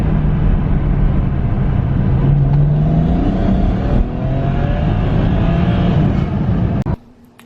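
A BMW 335i with the N54 engine pulls hard in second gear, a loud continuous engine roar with rising pitch, ending abruptly as the throttle closes with a brief hiss like a blow-off valve.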